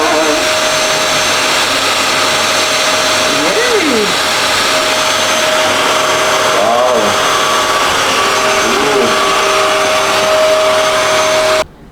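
A Eureka wet dry vacuum runs on a hard floor with a loud, steady motor whine, faint voices underneath, and the motor cuts off abruptly at the end.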